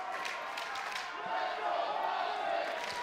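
An esports crowd at an arena event cheers and roars in a sustained, dense wash of voices that swells slightly partway through, loud and steady with no single voice standing out.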